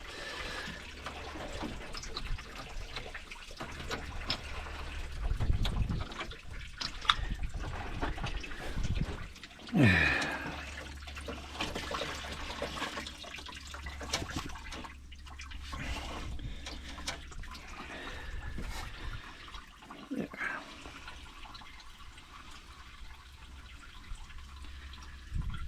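Antifreeze trickles and drips steadily from a Pontiac's radiator into a drain pan, a faint continuous liquid patter with occasional small clinks, running on alone for a long stretch.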